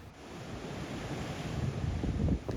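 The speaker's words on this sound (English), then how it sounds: "When waves and air come into the cave, they explode like a fountain out of the top" Ocean surf surges and rumbles against a rocky coastal shelf at Cape Perpetua on the Oregon coast, a steady roar swelling toward the end under gusty wind noise, with no voices.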